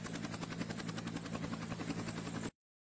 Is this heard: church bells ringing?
no